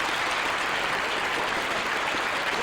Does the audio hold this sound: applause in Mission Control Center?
yes